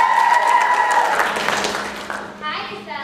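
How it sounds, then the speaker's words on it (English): A middle school audience gives a round of applause for a young tap dancer, clapping rising under a voice announcing on stage, then fading as children speak. "I want a big round of applause for Miss Katie Evans."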